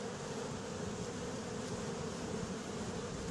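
Honeybees pour out of a tent through mesh, making a dense, continuous buzzing hum close by with no voices.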